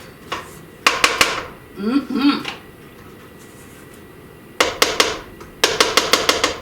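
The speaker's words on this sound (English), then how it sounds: "Scraping down my sides again." A spatula scrapes down the sides of a mixing bowl of Oreo cheesecake cookie dough, making clusters of sharp knocks and scrapes near by. A quiet stretch separates them, and a brief soft voice is heard.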